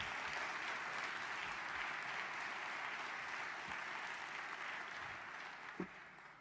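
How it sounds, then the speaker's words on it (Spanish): Steady applause from a conference audience at a Madrid professional gathering, heard faint and distant as an even wash of clapping that slowly tapers, with no voices over it. "Yo creo que se merecen un fuerte aplauso."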